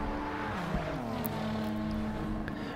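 Race car in Gran Turismo 7 during a Team Tuner Warz event, a steady engine drone whose pitch falls under braking and climbs again on acceleration, with a faint tire squeal near the middle.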